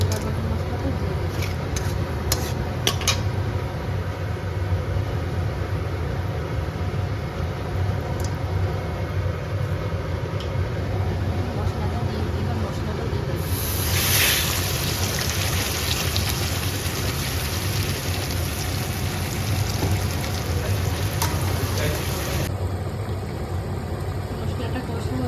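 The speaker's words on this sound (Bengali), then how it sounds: "ফোড়নে এবার গোটা গরম মশলাটা দিয়ে দেবো।" Whole garam masala spices hit hot oil for a home-style Bengali chicken kosha, giving a steady, crackling hiss that runs unbroken for the whole stretch while a person talks over it.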